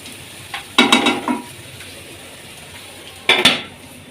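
A lid goes onto a chicken koyla karahi pot cooking over low flame, making two short metallic clanks a few seconds apart against a quiet background.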